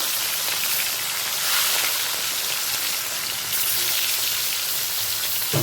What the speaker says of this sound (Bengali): তেলটা গরম হয়ে গেছে এই সময় দিয়ে দিচ্ছি মাছগুলো